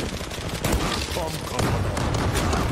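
Gunfire from an AWP sniper rifle in a video game, heard in a busy, continuous burst of loud overlapping shots and booms with no quiet gaps between them.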